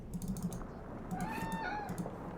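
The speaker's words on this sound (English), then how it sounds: "Kitty cat." A house cat meows once, a rising-then-falling call near the middle, over a backdrop of computer keyboard typing and clicking with a steady low hum.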